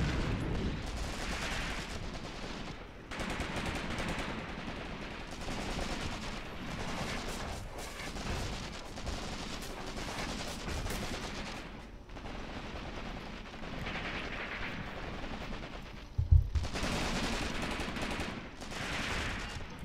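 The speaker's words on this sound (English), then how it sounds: "Continuous fire." Continuous small-arms and machine-gun fire rattles through a battle in the war game Graviteam Tactics: Mius Front, with dense overlapping bursts, rumbling distant shots and one sharper near blast late on, with no talk.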